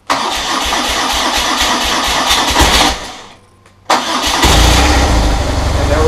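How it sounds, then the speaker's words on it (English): A BMW 1200 motorcycle engine is cranked after a fuel filter service, with a long steady starter whir. A brief quiet gap follows, then the engine catches and settles into a loud, close, rumbling idle. "Put fuel in the tank, and now let's see if it runs."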